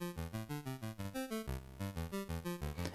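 Sub output of an ALM MCO mk2 DigiWave wavetable synth voice plays a quick repeating sequence of buzzy, bass-heavy synth notes in a steady pulsing rhythm, moderately quiet and with no talking.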